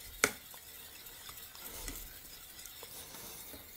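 Rice being stirred into a pot for a kirsch rice pudding: a single sharp clink against the pot, then soft, faint scraping and stirring, close by and quiet.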